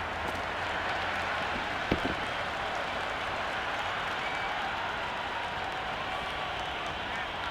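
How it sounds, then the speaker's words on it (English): Stadium crowd noise in a cricket video game, a dense, continuous roar of cheering and applause that stays steady throughout, with one sharp knock partway through. "It's the most enthusiastic crowd you could ever see right now."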